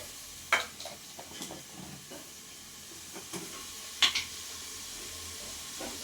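Onions sauté in a pan for biryani, with a quiet, steady sizzle broken by a few sharp scrapes and clinks of a spatula stirring, close by and without talk.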